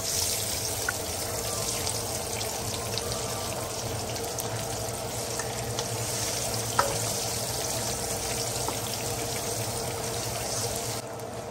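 Eggs frying lightly in a pan, a steady soft sizzle with faint crackles running evenly throughout at close range, no voices.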